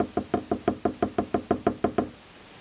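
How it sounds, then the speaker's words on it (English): A flocked goose decoy head is tapped about a dozen times in a quick, even rhythm to shake off excess flocking, each knock close and crisp, then silence. "Just tap it off, get the excess off"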